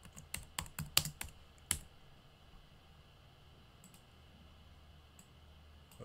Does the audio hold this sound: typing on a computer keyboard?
yes